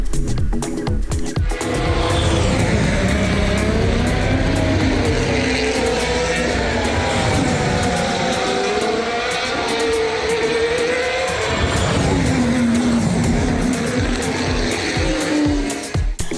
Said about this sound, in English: This is my first ever Formula One race.